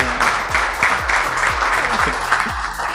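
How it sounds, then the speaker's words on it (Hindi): Audience clapping at a corporate product launch event, a loud, steady burst of many hands with a few prominent rhythmic claps cutting through, alone without speech. "थोड़ा ताली बजाइए तो मेरे को एनर्जी आएगा"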